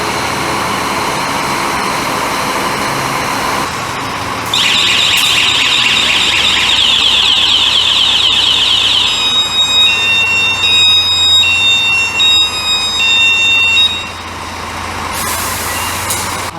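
Scania truck reversing, its loud rapid beeping backup alarm sounding in repeated bursts over a rumbling idling diesel engine, with hissing air noise at the end.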